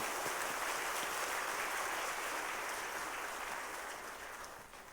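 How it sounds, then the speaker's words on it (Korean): Warm applause from a church congregation greeting a pastor at a 2016 autumn revival service, a dense wash of clapping that is fairly faint and tapers off near the end. "나오실 때 뜨거운 박수로 우리 맞이하겠습니다"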